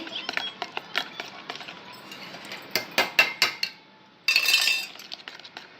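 A utensil beats a pudding mixture with milk in a bowl, giving quick clinking taps against the rim in uneven runs, then a short scraping swish, all close by.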